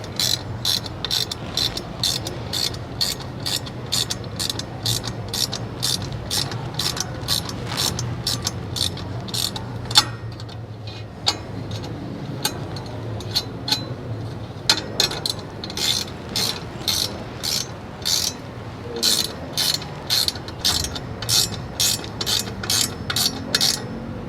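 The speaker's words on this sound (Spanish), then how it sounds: "Ahora nos ayudamos con nuestra llave número 10 y procedemos a realizar el apriete de nuestro tornillo" A number 10 wrench tightens a screw while fitting a DTH unit, giving a long run of quick, even ratchet clicks close up, with a short pause near the middle before the clicking resumes.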